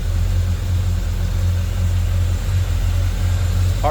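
A 1978 Chevrolet C10 Silverado with a 350 small-block Chevy V8 and HEI ignition runs at a smooth, steady idle, a loud, close, even low rumble with no talking.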